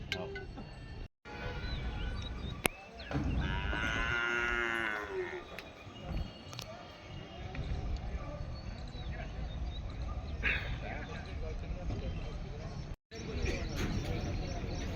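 Native Gavran bullocks low loudly and repeatedly at the busy Digras cattle market, deep drawn-out calls over steady crowd chatter and background bustle.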